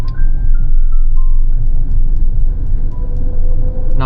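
Cabin rumble from a 2025 Chery Tiggo Cross crossover cruising in Eco mode, a steady loud low drone of engine and road noise, no talking.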